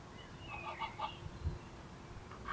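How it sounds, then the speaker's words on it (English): Egyptian geese honk a few times in quick succession, faint and at a distance, over quiet outdoor background. "Egyptian geese."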